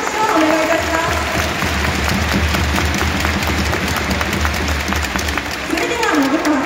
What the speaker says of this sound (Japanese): 皆様、改めて信川さんへ大きな拍手をお願いいたします